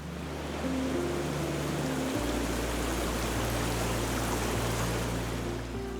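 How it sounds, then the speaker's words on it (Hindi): A monsoon-swollen river in Sangla Valley, Kinnaur, rushes in a dense, continuous roar of turbulent water, loud and steady throughout with no voices. "लेकिन अभी मानसून का पहला हफ्ता चल रहा है, इसलिए नदी अपने पूरे रौद्र रूप में बह रही है।"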